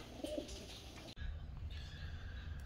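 Homing pigeons coo softly in a loft in Florida, low murmuring calls fairly close by over a light background hiss, with a sharp click about halfway through.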